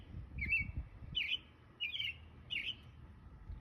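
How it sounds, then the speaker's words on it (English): Birds sing outdoors in four separate, evenly spaced chirping phrases, clear but moderately distant, above a low steady ambient rumble. "Can you hear the birds?"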